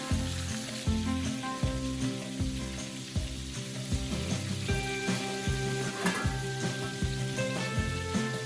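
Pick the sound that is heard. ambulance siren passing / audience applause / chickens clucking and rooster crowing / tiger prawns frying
tiger prawns frying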